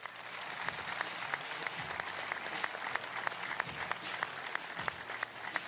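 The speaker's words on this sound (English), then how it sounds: "So let's please give a big round of applause for him." A pickleball tournament audience on the PPA Tour in Austin applauds during a tribute. The clapping is a soft, distant, sustained patter of many hands that continues evenly throughout, with no talking over it.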